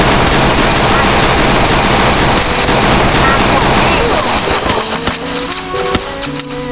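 Rapid, dense gunfire from the Free Fire video game rattles continuously and loudly, thinning into scattered single shots and clicks near the end.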